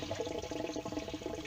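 Water rushing and gurgling steadily as it is siphoned out of a garden pond holding chromide fish, a continuous liquid flow with no talk over it.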